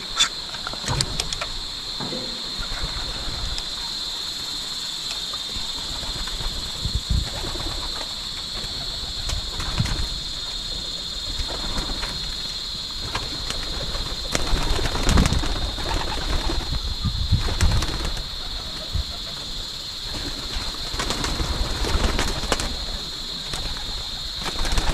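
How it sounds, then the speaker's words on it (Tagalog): Domestic pigeons coo softly again and again in a farmyard loft, with occasional wing flaps and rustling over a steady background hum, and no talking. "Yung kalapati natin, palabasin natin."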